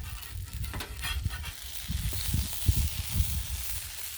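Pimento fried bologna grilled cheese sandwich sizzling on a flat griddle, a low close crackle with bursts of popping that grow busier toward the end, no talking.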